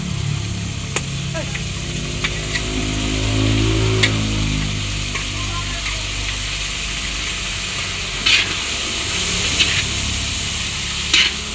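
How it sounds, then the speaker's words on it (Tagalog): Vegetables and black pepper sauté in a hot pan with a steady, close sizzle, broken by occasional clinks and stirring scrapes of a utensil. "Gigisa na din po namin yung manggulay."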